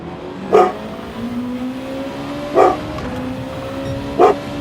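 A dog barks three times indoors, loud sharp yelps spaced about two seconds apart, over the steady drone of Gran Turismo 7 race car engines.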